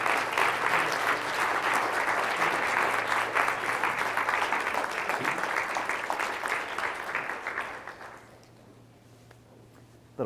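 An audience gives a warm round of applause after a presentation, dense steady clapping that thins out and fades away near the end, leaving quiet room tone.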